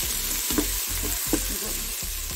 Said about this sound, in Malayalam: ഇഞ്ചിയും വെളുത്തുള്ളിയും ചീരലും കൂടി അരച്ചത് ചേർത്തി കൊടുക്കാം ഇത് നല്ലോണം ഇളക്കണം